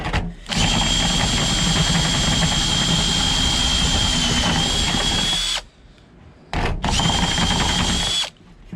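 A power drill with a sharpened step bit cuts through metal at low speed, a loud, steady whine running for about five seconds, pausing briefly, then resuming for a shorter second burst.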